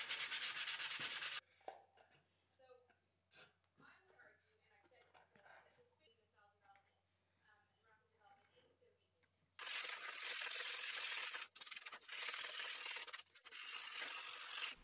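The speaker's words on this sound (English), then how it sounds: "Use sandpaper to round off the edges of the underside sheeting." Sandpaper rubbing the edges of balsa underside sheeting on a radio-controlled Messerschmitt Bf 109 model, heard as loud sustained rasping strokes at the start and again at the end, with softer scratchy handling between.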